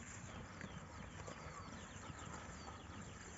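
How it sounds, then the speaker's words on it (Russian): Pregnant mares near foaling move about on a farm, their hooves clopping faintly under a steady wash of background noise. "Лошади ходят."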